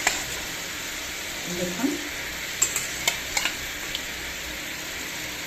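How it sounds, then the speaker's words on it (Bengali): Roe-filled hilsa fish going into a pan of curry, with a steady sizzle and frying hiss plus a few stirring clinks, while someone talks over it. "এবারে ডিমওয়ালা ইলিশ মাছগুলো দিয়ে দিচ্ছি"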